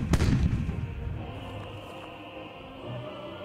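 Ship cannons firing in the pirate sailing game Age of Pirates: Caribbean Tales, aboard a brig: a loud booming blast opens with a burst of smaller cracks and then fades into a long rumbling tail with no voices.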